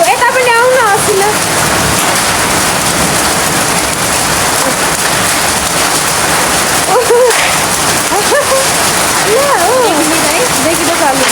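Heavy rain and hailstones pour down outdoors, a loud, continuous roar and patter up close, with people talking over it.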